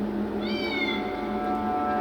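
A cat trapped inside a wall gives one drawn-out meow that bends down in pitch, heard close over a steady low hum with no talk.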